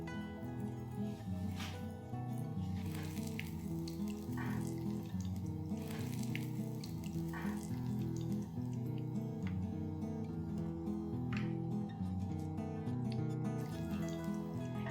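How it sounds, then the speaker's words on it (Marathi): Veg lollipops frying in very hot oil, a steady close bubbling sizzle with scattered crackles and small pops throughout, no voices. "आता मी लॉलीपॉप तळायला सुरुवात करते"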